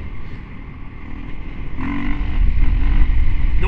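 An adventure motorcycle engine revving up during a wheelie, a loud, close throaty roar under wind buffeting that swells and grows heavier toward the end.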